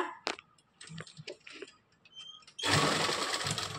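A sewing machine stitches the front panel of a narrow palazzo pant, with brief bursts of stitching early on and then a loud, steady run of the machine near the end.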